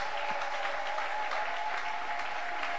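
A church congregation applauding in praise, a dense, steady wash of clapping from many hands that holds unbroken throughout, close and loud.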